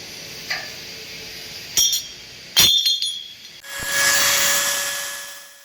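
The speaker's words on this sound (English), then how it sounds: "Since the welds are on one side of the tube, you can just rotate the tubes by hand to remove them." Stainless steel support tubes on a welded tube frame are twisted by hand and pulled loose. A few close, sharp metallic clinks and clanks ring out, followed by a steady hissing rush.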